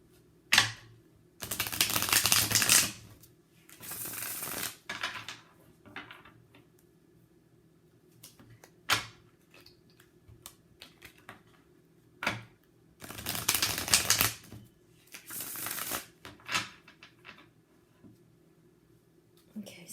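A deck of tarot cards being shuffled and drawn, with bursts of riffling and card slaps that come and go, close and crisp, separated by quiet pauses and light handling clicks.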